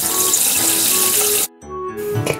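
Tap water runs hard over a whole raw chicken at a sink, a loud steady splashing rush that cuts off abruptly partway through and then resumes, with no talking.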